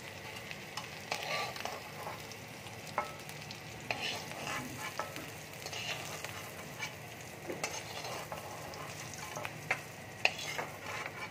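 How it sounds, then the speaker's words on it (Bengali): Turmeric-coated potatoes fry in oil in a pan, giving a continuous sizzle broken by scraping and clinking as they are stirred, close and steady with no talk. "আমি আলুগুলোকে ভালো করে ভেজে নেব।"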